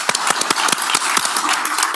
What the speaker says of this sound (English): I want to give a round of applause to Carolina Dewar and Elias